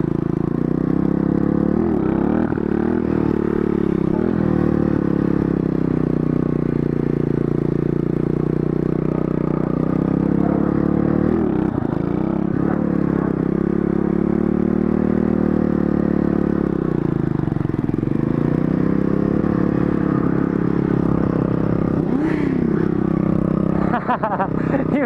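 Mini moto motorcycle being ridden, a steady small-engine drone holding through the whole stretch with slight rises and dips in pitch, plus occasional clatter and scraping, close and continuous.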